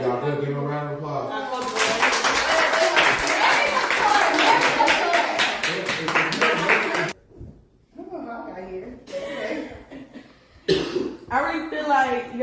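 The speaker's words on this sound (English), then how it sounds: "Give them a round of applause." A small group in a house gives a brisk round of clapping for about five seconds, close and lively, after a brief voice; afterwards people talk and the clapping stops.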